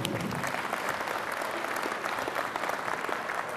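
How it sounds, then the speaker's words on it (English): Audience applause at a yacht racing event gathering, a dense, steady wash of many hands clapping that holds at an even level throughout, with no talk over it. "Round of applause."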